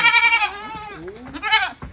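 Two loud, wavering bleats close by, one after the other, from sheep.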